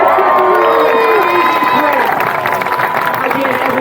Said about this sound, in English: thank you so much for cheering on our dogs